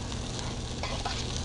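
Shallot, rosemary and garlic sizzle with browning mushrooms in a pan, a soft, even, continuous hiss up close with small crackles and no voices.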